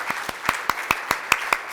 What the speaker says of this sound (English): my appreciation to our speakers, Dongbo, Cristina, a round of applause